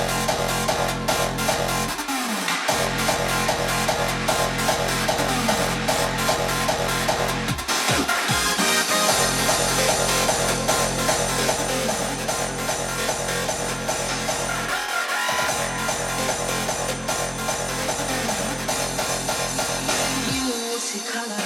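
A hardstyle track intro build-up plays back loud and dense, a steady wall of sound with pounding low end that drops out briefly a few times before surging again.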